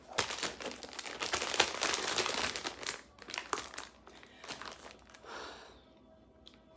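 Packaging stuffing crinkles and crunches as it is pulled out and unpacked, in busy bursts of rustling that thin into a few quieter, scattered crackles toward the end.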